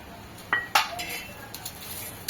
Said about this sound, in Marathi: तर याच्यामध्ये मी आता हा लसूण घालते।